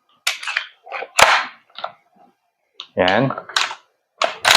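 A Knights Armament SR16 E3 MOD2 CQB airsoft gas blowback rifle fires a single sharp, close crack in a quiet room. Someone talks before and after the shot.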